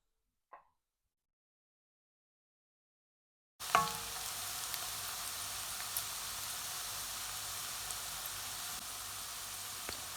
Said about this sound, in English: 2 roughly chopped onions and let it cook very well till it becomes nice brown in color